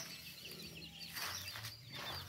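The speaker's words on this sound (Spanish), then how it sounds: "Están las gallinas con su cría." Hens clucking softly with their chicks in a small family garden plot during a peanut harvest in a village, faint calls scattered over a steady outdoor background.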